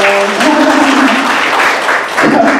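Loud, dense applause fills a spring youth flute ensemble recital for a bass flute player, while a sustained low tone fades at the start beneath the clapping.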